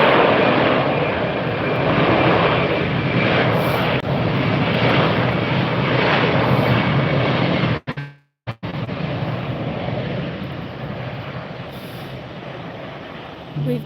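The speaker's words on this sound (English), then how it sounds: "we have our first Breeze aircraft taxiing up on our live stream today" A Breeze Airways jet taxiing at Tampa International Airport: a steady, loud engine roar and broadband whine that stays constant through the clip, cut by a brief dropout midway.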